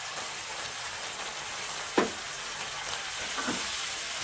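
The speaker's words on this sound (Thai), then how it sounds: "คราวนี้เชฟจะเติมแตงกวาลงไปอีก 100 กรัมครับ" Sweet and sour vegetables with cucumber stir-fried in a wok: a steady, close hiss of sizzling with a few scraping clicks from the stirring, and no speech.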